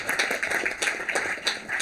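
Applause from an audience at a county council Black History Month commemoration, a short burst of quick, fairly close clapping.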